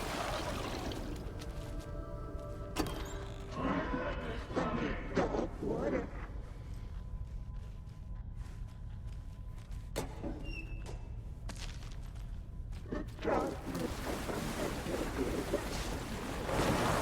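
Water splashing and rolling waves in the video game Alan Wake 2, a loud, continuous rushing wash with surging bursts and sharp splashes, mixed with wind-like noise and occasional voice.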